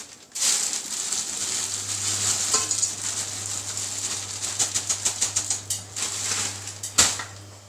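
Egg fried rice with mixed vegetables sizzles steadily in a pan while being stirred. Rhythmic scraping pulses from the utensil grow more distinct toward the end, and a low steady hum runs underneath throughout.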